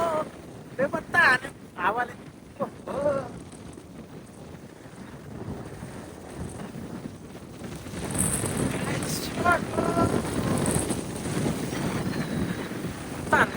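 Wind gusts across open desert and buffets the microphone in a steady, rough roar that swells louder toward the end. Faint voices are heard briefly near the start.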